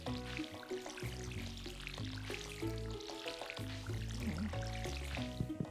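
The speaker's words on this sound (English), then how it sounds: "fill up the watering can again" Water splashes as a watering can is filled from a farm pond in the video game Stardew Valley, a short pouring burst heard under steady, prominent game background music.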